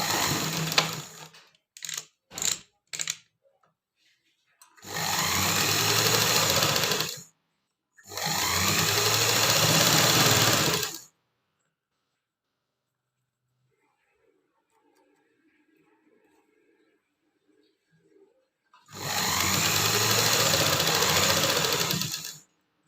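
A domestic sewing machine stitches a pocket into pants and lining, first in a few quick short bursts, then in three longer loud runs separated by near-silent pauses.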